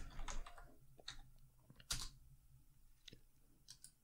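Sparse, faint taps on a computer keyboard as a command is typed while setting up PCLinuxOS, with a few separate keystrokes and short clusters in a quiet room.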